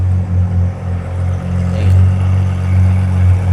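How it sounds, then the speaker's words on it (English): A Lamborghini Aventador SVJ idles inside a road tunnel, a loud, steady low engine rumble that holds on without pause, with a faint rise in the middle. "Just idling through the tunnel sounds sick."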